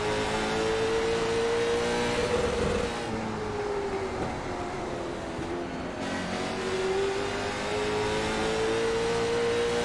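A Die Cast 125 race car's engine drones steadily at Langley Speedway, its pitch dipping and rising as the throttle eases and picks up again, loud and continuous with no voices.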